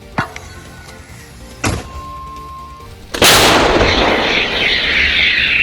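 Two sharp distant booms, then a much louder close blast that leaves a long rumbling, hissing tail fading slowly, from Ukrainian armed forces artillery firing.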